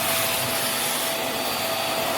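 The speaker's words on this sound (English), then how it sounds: "move it over to the low pile carpets and the suction is great" A Vax Mach Air upright vacuum cleaner runs on low pile carpet with a steady, loud, close whirring roar that holds unchanged from start to finish.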